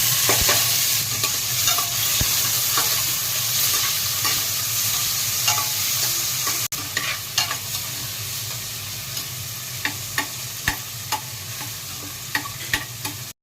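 Fish and white radish frying in hot oil, with a steady sizzle and repeated stirring clicks and scrapes throughout, close and fairly loud, no talk.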